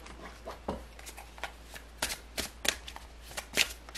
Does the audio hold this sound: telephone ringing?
no